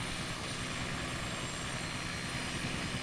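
A helicopter flying over the UK in a flight simulator game gives a steady, unbroken rotor and engine drone, loud and even throughout with no talk.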